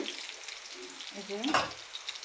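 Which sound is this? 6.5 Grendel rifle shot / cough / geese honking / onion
onion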